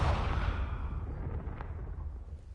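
Explosive blast from the Confringo spell in the Hogwarts Legacy video game: a loud, broad boom at the start that decays into a rumbling roar with a few faint crackles trailing off, no voices.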